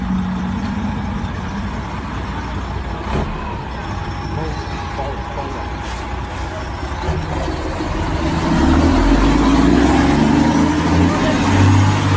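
A livestock truck loaded with about 300 animals rumbles at close range as it is brought to a stop outdoors, a broad steady engine drone that swells louder in the last few seconds, with voices faintly mixed in.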